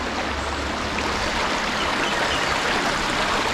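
Water runs steadily along a village canal lined with large coconut trees, a continuous close rushing wash with no voices over it.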